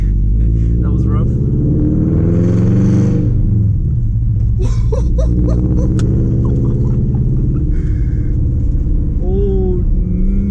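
Loud car engine rumbling and revving on the first drive of the year, a deep continuous roar with rising and falling throttle, while a person talks over it.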